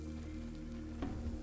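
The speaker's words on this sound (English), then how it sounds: "Oh my god, that is really sizzling." Sizzling in the video game Grounded: a steady, close hiss over a low sustained hum, with a brief louder crackle about two-thirds of the way through.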